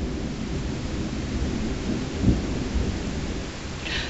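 Thunder rumbles through a thunderstorm over steady heavy rain, a loud continuous low roar with a slightly stronger swell midway, and no talk.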